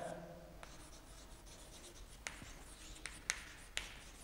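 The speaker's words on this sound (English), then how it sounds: "I will write the problem now." Handwriting of a maths problem on the area bounded by an ellipse and a straight line, heard as faint scratchy pen or chalk strokes with a few sharper taps near the end, quiet and close, with no talking.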